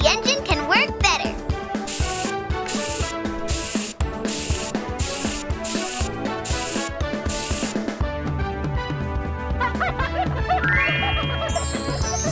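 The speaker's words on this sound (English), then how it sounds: "Let's spray some cleaning liquid," Rhythmic bursts of hissing spray coat a cartoon ice cream truck's engine with cleaning liquid, repeating in quick pulses over bright playful music with mechanical clinks, followed by a jingly rising flourish.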